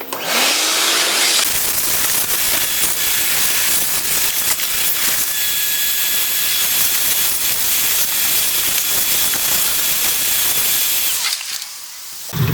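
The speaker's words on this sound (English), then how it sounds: "let's get this vacuum cleaner going" A vacuum cleaner roars loudly and steadily for about ten seconds with a whining tone, then cuts off near the end.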